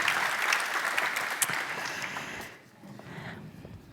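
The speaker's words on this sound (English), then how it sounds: "Give her an applause." A conference audience at Price Points Live 2022 claps steadily, a dense wash of applause that thins and softens toward the end.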